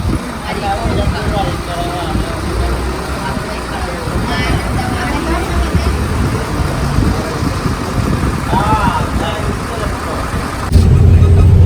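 A KSRTC bus engine drones steadily on a night journey toward Ooty, a low continuous rumble filling the cabin with voices faintly mixed in and a louder lurch near the end.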